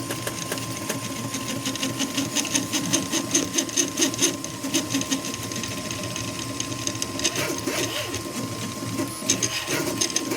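A Prusa i2 3D printer nears the end of a print, its stepper motors buzzing and whirring in busy, pulsing bursts with a steady hum underneath, close and moderately loud.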